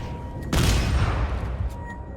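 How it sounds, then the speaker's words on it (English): A single loud gunshot from the Dead Space video game, a sharp blast followed by a long booming decay that rumbles away over about a second and a half. "Oh my god, I just shot you."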